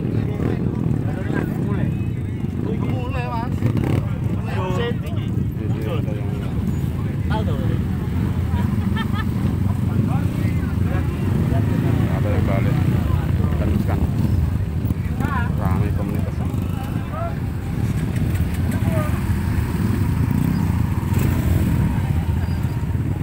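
A community group of trail motorbikes rides up Mount Kelud, engines droning loudly and steadily with revs rising and falling, while people talk over the noise.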